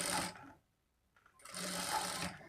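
A sewing machine stitches a lined blouse near the neck with a quarter-inch margin, two close bursts of rapid mechanical whirring separated by a short quiet gap.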